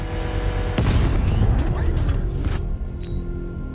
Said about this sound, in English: the power winch to trigger a controlled explosion